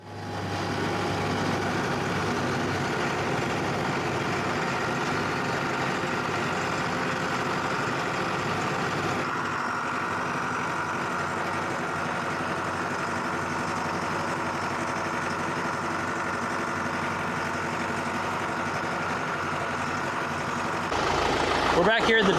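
A farm tractor engine idles steadily nearby for the full length of the sound, a continuous low rumble with a slight shift in tone partway through and a brief rise near the end; people talk over it.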